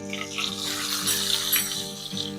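Curry leaves, a chopped green chili and a pinch of asafoetida crackle and sizzle in hot oil with mustard seeds for a Gujarati tempering, a steady close frying hiss with small pops and no voices.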